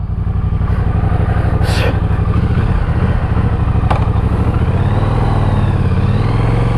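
A Triumph Bonneville Bobber 1200 motorcycle engine idles loud and close with a steady low rumble, one short rev bump partway through, and light mechanical clatter over the even throb.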